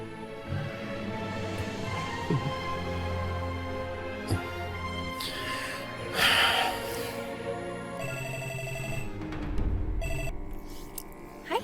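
A telephone rings repeatedly with an electronic tone, loud and close, over a soft musical background in a drama scene, with no speech.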